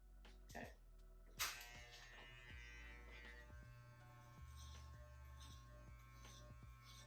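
Electric hair clippers buzz steadily through hair during a pixie-cut trim, a faint close hum with brief louder bursts as the blades pass through.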